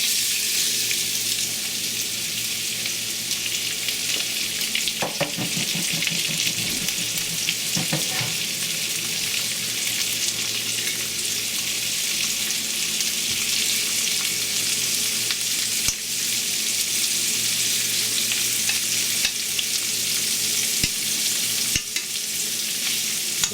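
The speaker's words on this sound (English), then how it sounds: "Put our shrimp in here." Shrimp sizzle steadily in a hot pan, a loud, continuous bright hiss with a few faint stirring scrapes and clicks across the long stretch.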